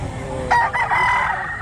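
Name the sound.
rooster crowing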